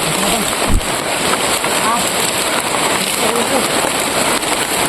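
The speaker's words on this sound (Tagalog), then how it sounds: "Sobrang lakas ng ulan" Heavy tropical downpour drums steadily and loudly on surfaces close by, a dense unbroken hiss of rain with a low thump near the start and no pause throughout.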